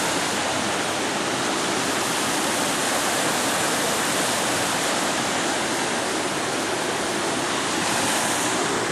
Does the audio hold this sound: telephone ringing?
no